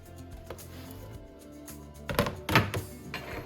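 Cut potatoes dropped into a crock pot, making a couple of close, dull thunks about half a second apart after a quiet stretch of low background noise.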